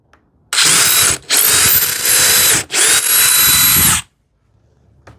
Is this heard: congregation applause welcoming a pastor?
no